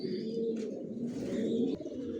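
Adult pigeons in a pigeon loft coo nearby, soft low throaty calls overlapping in a continuous murmur with a few brief fluttery sounds.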